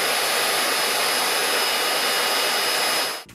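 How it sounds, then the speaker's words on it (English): A PRETTYCARE P1 Pro cordless vacuum cleaner runs with a steady, loud high-pitched whine and airy hiss, cutting off abruptly at the end. "the noise level of the PRETTYCARE P1 Pro vacuum cleaner"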